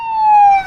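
A video game ambulance siren wails in one steady, loud tone that sweeps slightly downward, sounding alone for under a second before it cuts off abruptly.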